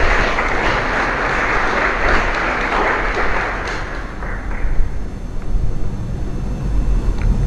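An audience at a Torah reading claps together, a dense roar of hands that holds steady and then slowly thins out toward the end.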